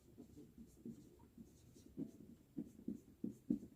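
Pen strokes scratch on paper during a class 10 maths lesson on quadratic equations, as soft, close taps and scrapes come in an uneven rhythm.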